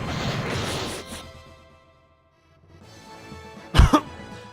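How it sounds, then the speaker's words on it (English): A person coughs right into a microphone, a rough burst of coughing and throat clearing that fades into near silence, followed by one sharp, loud cough close up. "I'm coughing into the mic, I'm sorry."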